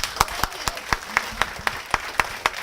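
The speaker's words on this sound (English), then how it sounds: "let's give Bennett a round of applause" Steady, rhythmic clapping from an audience gathered at a talk, honoring Bennett, each clap crisp and distinct at a brisk even pace, with no talking over it.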